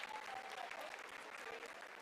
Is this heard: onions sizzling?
no